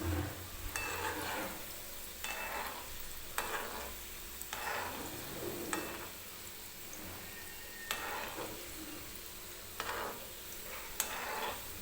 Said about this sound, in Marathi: गुलाबजाम तळताना अलगद असे एखाद्या छोट्याशा चमच्याने ते असे तेलामध्ये फिरवून घ्यायचे